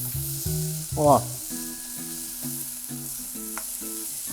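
Onion fries in a hot pan for a rustic tomato sauce, a steady close sizzle running throughout beneath a brief spoken exclamation and faint background tones.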